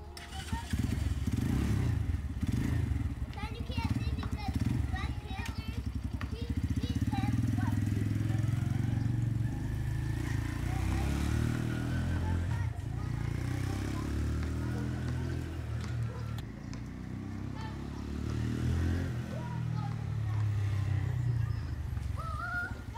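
An inexpensive Chinese street-legal motorcycle bought on Amazon idles with a steady, slightly uneven chugging engine note throughout, close and loud, with someone talking over it at times.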